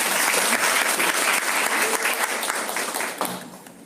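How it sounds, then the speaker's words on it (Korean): An audience at a high school information session on physical education college admissions claps to welcome a speaker. The applause is loud and dense at first, then gradually thins and fades toward the end. "박수로 환영해 주시기 바랍니다."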